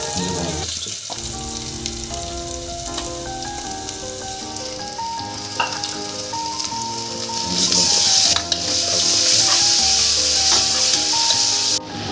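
Ingredients for mushroom biryani sauté in a pan with a steady, close sizzle that runs throughout, growing a little louder near the end, while a tuneful melody plays over it.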